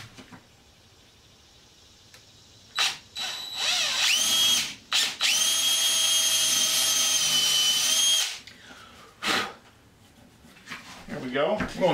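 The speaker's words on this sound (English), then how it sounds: "And I'm just drilling a, could be a 3/16 or even a quarter." A power drill boring a 3/16 inch hole into whiskey barrel stave wood, several short whirring bursts and then one long steady high-pitched run of several seconds, loud and close, with clunks and handling noise around it.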